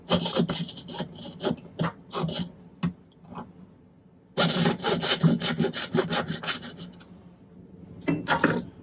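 Jeweler's saw rasping through a silver hoop earring in quick, uneven strokes, close and fairly quiet, with a brief pause partway through before the cutting resumes.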